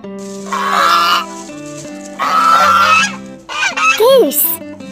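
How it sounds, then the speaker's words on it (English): A goose honks loudly and up close in a string of harsh, nasal calls with brief gaps, set over a steady backing tune. "Goose."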